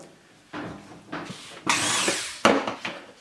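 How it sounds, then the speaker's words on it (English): A rotary tool with a 1/16 inch bit drills blade entry holes in wood. It whines in four or five short, close bursts of rising and falling pitch, with no one speaking. "This can be done using your drill press, a hand drill, or a rotary tool such as what I'm going to use."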